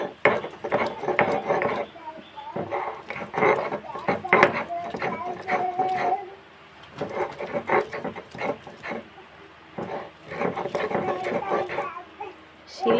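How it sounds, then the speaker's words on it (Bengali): Banana peel is ground by hand on a stone grinding slab, giving rhythmic scraping and rubbing strokes in bursts with short pauses, close and fairly loud. "শিল নিয়ে নিয়েছি, শিলের মধ্যে দিয়ে বেটে নেব"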